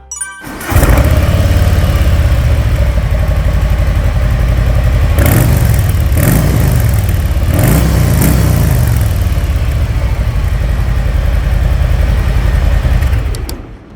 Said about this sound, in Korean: 이제 순정 머플러 소리 한번 들어보겠습니다.